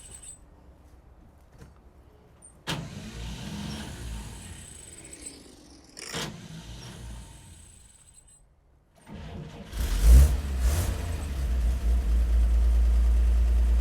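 A 1953 Chevy pickup truck engine cranks and catches near the end, then settles into a loud, steady low running rumble; before that come quiet clicks and scattered knocks.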